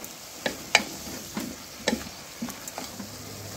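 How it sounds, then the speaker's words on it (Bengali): Small onions frying in a pan for chicken soup, a soft sizzle broken by scattered spatula knocks and clicks against the pan, close and fairly quiet, with no talking. "এখন আমি এই ছোটো ছোটো পেঁয়াজগুলো দিয়ে দিচ্ছি"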